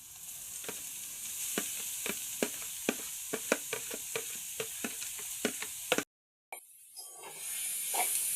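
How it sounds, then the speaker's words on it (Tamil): Steamed fish pieces with chili powder, salt and masala are stirred in a hot pan, a steady sizzle of frying carrying regular scraping strokes of the spoon about twice a second before a brief cut and a softer hiss. "நன்றாக கிளறி கொள்வோம்"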